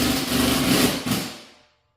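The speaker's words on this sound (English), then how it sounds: "backing it off, finding the hole in the bracket, and then just screwing nice and easy on that plastic" A self-tapping sheet metal screw is driven into a plastic bracket for a shop light, giving a close, steady whirring grind with a brief dip midway before it fades out.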